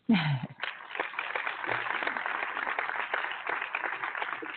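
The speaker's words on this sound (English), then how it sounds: "I just want to applaud my team. Applaud them once again, please." Applause from a small group in a radio show studio: a brief voice at the start, then a close, steady patter of clapping hands lasting several seconds.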